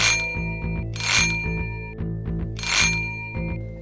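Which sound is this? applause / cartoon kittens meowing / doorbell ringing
doorbell ringing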